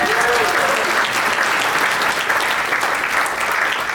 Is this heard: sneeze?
no